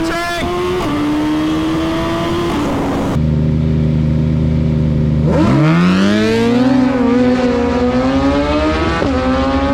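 A 2022 Suzuki Hayabusa with a few mods launches at a drag strip, its engine roaring loud and close, dropping in pitch as it shifts and then climbing hard again.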